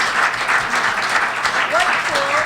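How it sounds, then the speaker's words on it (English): Audience applause for speakers at a wearable electronics and industrial IoT panel breakfast: sustained, dense clapping from a room full of people, steady and fairly loud for the whole stretch. "Can we just give our speakers a round of applause?"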